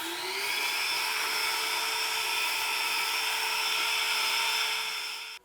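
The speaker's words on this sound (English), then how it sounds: "I got a Bosch vacuum down here." A small battery-powered Bosch vacuum whines steadily at close range for several seconds while cleaning sanded cabinet doors, then cuts off abruptly.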